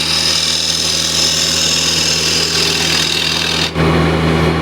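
A woodturning lathe spins while a square scraper takes a light cleanup cut, giving a steady, loud whir and scraping that runs continuously with one brief dip near the end.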